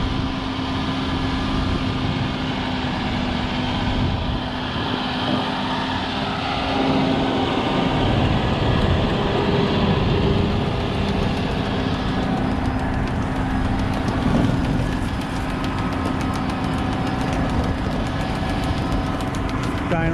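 A John Deere tractor spreads muck across a field with a steady, loud engine drone and a mechanical rumble that runs unbroken for twenty seconds, near the listener.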